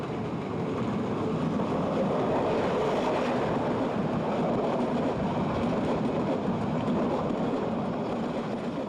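A train rolls along the railway through Lawachara forest, a loud, continuous rumble and rattle passing close by without voices.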